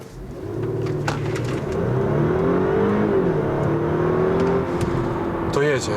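A 2015 Audi A7 Sportback 3.0 TFSI petrol engine, 333 hp, in dynamic mode, revs and accelerates steadily, its pitch climbing and holding, loud and close, with a brief higher whir near the end.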